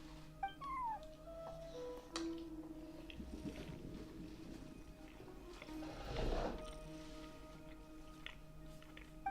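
A cat in Genshin Impact meows a few times, short rising calls near the start over a steady game music bed, with a louder rustling burst later.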